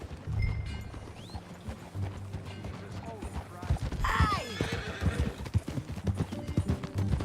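A horse's hooves clip-clop and it whinnies loudly in the video game Red Dead Redemption 2, with music and brief voices around it.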